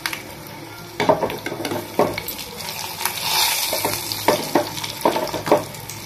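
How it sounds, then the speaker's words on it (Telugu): Dried red chillies, garlic cloves and curry leaves sizzle in hot oil as a tempering for a spinach-leaf dal, a steady close fry broken by regular clatters of a spoon stirring the pan. "ఇదిగోండి, తాలింపు అయితే ఫ్రై అయిపోయింది"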